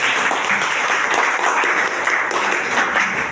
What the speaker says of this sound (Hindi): मैं चाहूंगा एक बार जोरदार ताली